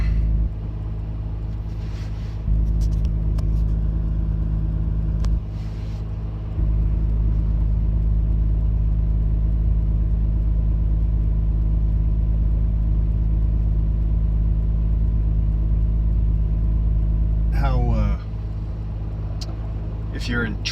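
Low, steady engine hum from a 2018 Acura NSX on the move, heard from the cabin. A thick drone stays loud throughout and dips in level a few times, with brief faint higher noises near the end.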